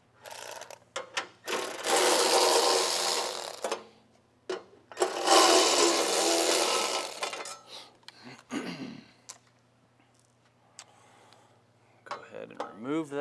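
Bolts being removed from the battery cover of a Tilmor 520 tractor, with two long stretches of whirring power-driver noise and scattered clicks and small metallic clinks as the parts come loose.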